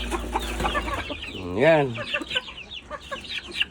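Chickens and chicks on a small farm give soft clucks and one drawn-out call, close and fairly clear, while a person speaks briefly between the sounds.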